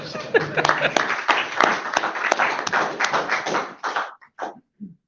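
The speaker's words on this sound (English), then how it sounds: "Applause if you feel it deserves." An audience at the Irish EV Owners Association AGM applauds after a presentation: a dense burst of clapping that thins out into scattered last claps and fades to near silence.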